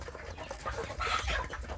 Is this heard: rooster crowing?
yes